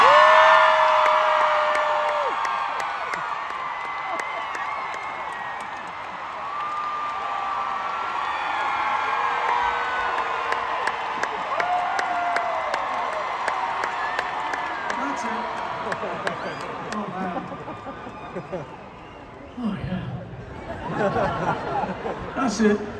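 A stadium crowd at a concert at Fenway Park lets out a sustained scream, a dense high-pitched roar of many voices with whoops and cheers that swells and holds for over twenty seconds.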